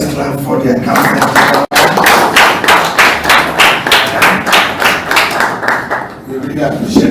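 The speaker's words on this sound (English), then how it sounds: "Let's clap for the accountant." Audience applauding at a formal conference on accountability and transparency, a steady wave of rhythmic clapping with a brief break midway, close and loud throughout.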